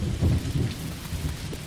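Rain pours and thunder rumbles in the Dinkum video game, with a steady wash of rainfall under deep, rolling thunder that swells early and then settles into a continuous storm.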